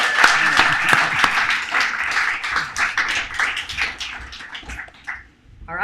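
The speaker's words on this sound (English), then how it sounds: "Let's give them a big round of applause." A crowd at a tenants' movement event applauds, a dense run of clapping with sharp individual claps standing out, mixed with a voice speaking over it before it tapers off near the end.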